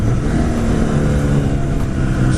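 A Honda Repsol 1000cc motorcycle, an older bike, revs its engine loudly and steadily up close, a continuous throaty drone with no pauses.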